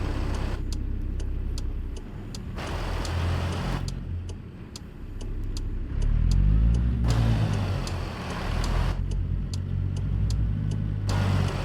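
A Kenworth W900 truck engine in American Truck Simulator drones at a steady low idle, rising into a revving pull midway, with regular ticking clicks repeating over the engine and no speech.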